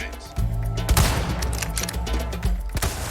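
Rifle fire at shooting-range targets in Resident Evil 4 Remake, several sharp, loud shots spaced irregularly over a steady game background, with metallic mechanism clicks between them.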